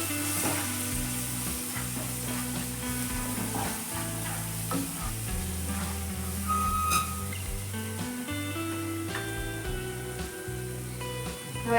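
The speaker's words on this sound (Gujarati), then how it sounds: "હવે આપણે બધા જ મસાલાને છે એ મિક્સ કરી લઈશું." Spices for dum aloo stirred and mixed in a frying pan, with a steady sizzle and frying crackle running throughout alongside intermittent scraping stirs, close and moderately loud, no talking.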